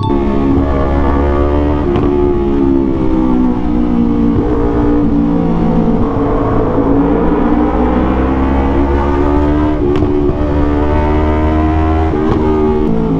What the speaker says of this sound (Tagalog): Kahit 2 cylinder lang, kahit hindi siya 270 degrees, maganda pa rin yung tunog niya